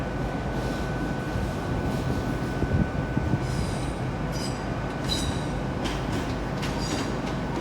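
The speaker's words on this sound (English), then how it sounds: "coming in now is a Great Western Railway service to Exeter" A Great Western Railway service to Exeter pulls into Exeter St Davids station, a low steady rumble of the train with faint high wheel squeals and clicks from the track, no talking.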